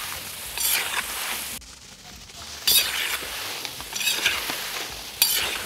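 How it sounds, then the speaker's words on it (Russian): Potatoes fry in oil in a cauldron over a wood fire, stirred in several scraping bursts over a steady soft sizzle, close and without talk. "Помешивать картофель."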